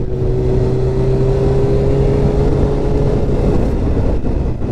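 A Suzuki GSX-R 600 sport motorcycle pulls hard under acceleration. Its engine holds a loud, sustained droning whine mixed with rushing wind, close to the microphone, with no one speaking.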